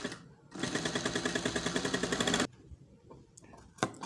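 A sewing machine stitching piping onto a shirt neck, a fast, even mechanical rattle that runs for about two seconds at a steady rhythm, then stops, followed by a few soft handling clicks.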